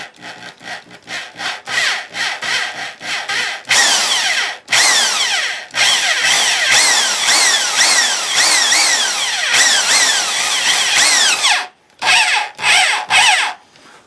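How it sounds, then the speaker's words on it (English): A power drill bores into a steel railroad spike clamped in a vise, loud and close, with a long grinding whine broken by short bursts and brief stops, then several quick pulses at the end. "It's all been drilled out."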